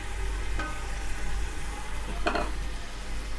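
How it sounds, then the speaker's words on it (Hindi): A spoon stirs chicken pulao masala in a pot over a soft, constant sizzle, with a couple of brief scrapes against the metal standing out from the quiet background. "ये इसको अपने मिक्स कर लेना अच्छी तरह।"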